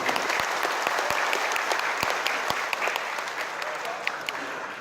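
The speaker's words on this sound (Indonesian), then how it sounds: "Tepuk tangan buat program ini." Audience applause at a regional assembly of a community organisation in Jakarta, a dense steady clapping from a crowd that carries on through the whole stretch with no voice over it.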